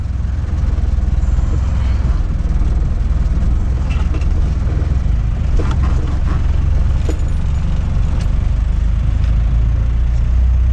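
A 1997 Land Rover Defender with a 300 TDI diesel engine and manual transmission being driven, a loud, constant engine drone and road rumble from inside the cabin with a few rattles.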